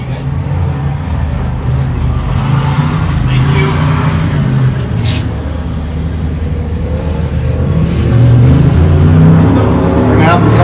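Pro competition off-road trucks race at the High Desert 100 in Powell, Wyoming, a steady engine roar with rising and falling harmonics under crowd noise and a commentator's voice, growing louder near the end.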